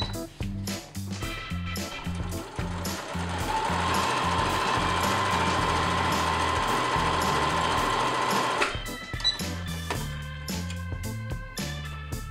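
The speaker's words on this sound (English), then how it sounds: "we're going to sew a seam on each of the curved edges of these pieces using a 3/8 seam allowance" A sewing machine stitches a seam along curved fabric edges for a cloth face mask, a loud steady rhythmic whir and needle clatter that runs continuously, pausing briefly near the end before a few more stitches.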